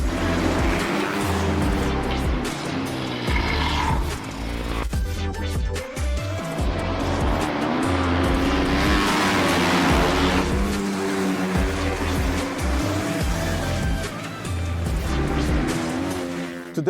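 Flat track motorcycles riding on a dirt track, engines revving and roaring continuously as bikes pass and slide through turns, loud and close with shifting pitch.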